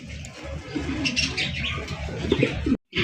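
Andalusian fancy pigeons coo in soft, rolling throaty bursts alongside a few chirpy calls, close and moderately loud, briefly broken by a short silence near the end.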